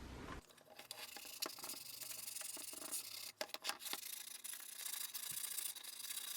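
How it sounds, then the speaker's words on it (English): Edges of scrap wood pieces being hand-sanded smooth and rounded: a close, soft, continuous rubbing and scratching with brief pauses and irregular strokes. "I'm just going to sand down the edges now a little bit, make them a little bit rounder and smoother"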